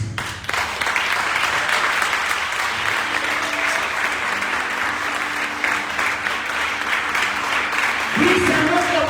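Applause from a church congregation at a Father's Day service, steady and full throughout, with a voice starting to speak near the end.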